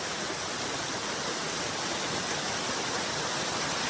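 The waterfall at Ein Gedi roars steadily, a dense, unbroken rush of falling water heard close and loud with no voices.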